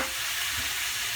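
Beef browning in a hot pan for a Southwest-style beef stew, giving a steady, close, even sizzle with a faint crackle throughout, with no talking.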